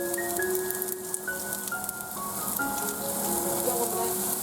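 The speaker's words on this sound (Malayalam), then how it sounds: "എന്നാൽ നമുക്ക് നമ്മുടെ കടുക് ആദ്യം ഇടാം" Mustard seeds sizzle in hot oil for a curry, giving a continuous close crackle with faint popping and thin tonal ringing over the hiss.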